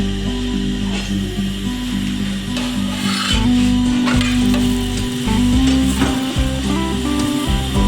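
An aloo paratha fries in oil on a pan, a loud continuous close sizzle with scraping and rubbing as it is pressed and turned, over a low steady hum.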